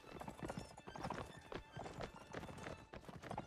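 Cavalry horses trot in the Napoleonic Wars game, a dense, continuous clatter of many hooves clip-clopping together with occasional whinnies, loud and close throughout.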